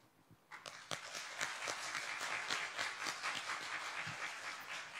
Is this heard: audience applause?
yes